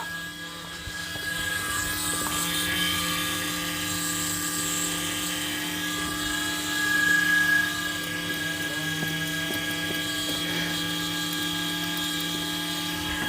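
Volvo 740 engine from a scrapyard car, recently restarted after sitting with old fuel, running at a steady idle with a continuous tonal hum and a brief swell of revs midway.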